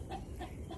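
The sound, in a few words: dog panting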